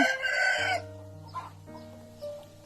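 A rooster crows loudly nearby, and chickens cluck softly afterward on a rural Thai farm where ducks and fighting cocks are kept.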